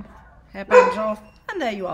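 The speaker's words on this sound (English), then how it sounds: "Those are my dogs going absolutely berserk." Small household dogs bark in a few excited yips and bursts nearby, mixed in with someone talking over them in a home.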